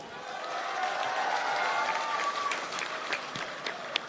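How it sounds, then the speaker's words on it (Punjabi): A crowd at an outdoor live Punjabi music concert claps steadily in a dense wash of applause, with a voice briefly audible beneath it. "ਦੱਬ ਕੇ ਮਾਰੋ ਯਾਰ ਤਾੜੀਆਂ"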